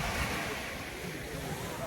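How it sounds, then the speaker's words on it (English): Strong wind buffets the microphone in a continuous roar, with surf washing in underneath at a steady level, on Agios Prokopios beach in Naxos, Greece. "It's really windy."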